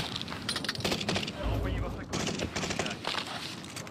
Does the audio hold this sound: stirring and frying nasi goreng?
no